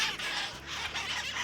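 A blue-crowned conure calls with a few harsh, raspy squawks that rise and fall in quick succession, fairly close and moderately loud, with no talking.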